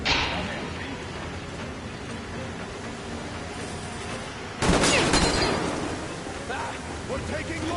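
Gunfire during a battle in Metro Exodus, dense crackling shots under a wash of noise that swells suddenly louder partway through and stays intense.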